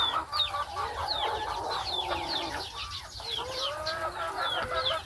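Chickens cluck continuously on a Philippine farm, several birds close by in a dense overlapping chorus with no talk over them.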